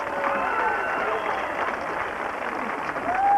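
A rodeo crowd at the 1986 Howe Lions Club PRCA Rodeo in Howe, Texas applauds and cheers for bull rider Joe Wimberly after a good bull ride, a steady, dense wash of clapping swelling louder at the end.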